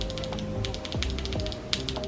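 Key presses on a mechanical keyboard fitted with red switches, a steady run of light, quick clicks at close range with no talk.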